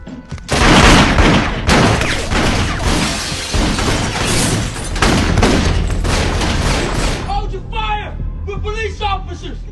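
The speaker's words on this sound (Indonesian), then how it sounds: "Lalu tiba-tiba ada sebuah tembakan dari atap kamar tersebut yang menembaki mereka." A burst of gunshots fired from a rooftop in an action film about a drug cartel, loud rapid overlapping blasts and booms for several seconds, then fading into ringing and voices.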